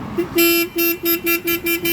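A motorcycle's stock horn beeps in a quick series of about seven short, loud honks, nearby and evenly spaced, with no talking.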